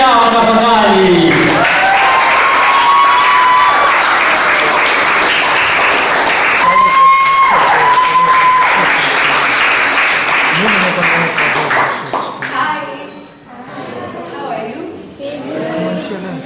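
Loud, sustained applause and cheering from a concert audience, a dense wash of clapping with whistles and crowd noise, thinning out near the end as a voice speaks over it.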